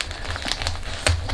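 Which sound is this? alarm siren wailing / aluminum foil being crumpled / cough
aluminum foil being crumpled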